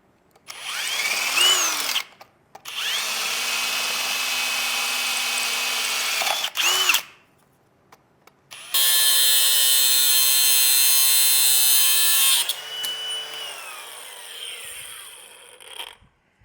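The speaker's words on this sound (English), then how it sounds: "Mark and cut this all thread to give myself a way to bolt it all together." Power tool cutting threaded all-thread rod, loud whining bursts separated by short pauses, with a harsher high-pitched cutting stretch near the end before winding down.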